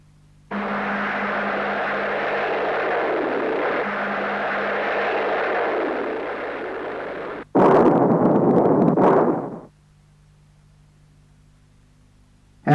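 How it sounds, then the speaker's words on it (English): An ADATS anti-tank missile at test firing: a long, loud, steady roaring rush runs for several seconds, then a harsher, louder blast erupts and cuts off into near silence. "the missile blasts straight to the target, sending it up in a ball of flame"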